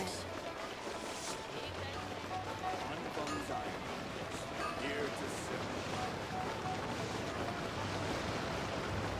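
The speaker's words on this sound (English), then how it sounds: "Are the waves here always like this?" Ocean waves wash continuously at Liyue Harbor in Genshin Impact, a steady broad surf wash with breezy rush, while a character speaks over it.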